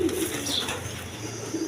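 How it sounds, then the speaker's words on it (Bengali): Rajgolla pigeons, a male and female pair, coo softly against a steady background hum, the low calls blending into the noise. "রাজগোল্লা কবুতর দেখেন"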